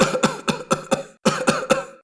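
A man coughs in a harsh, repeated fit, about eight broad bursts in quick rhythm with a short pause midway, close and fairly loud with no speech.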